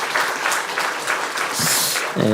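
A church congregation applauds during a Sunday service appointment ceremony, with steady sustained clapping across the room that fades near the end.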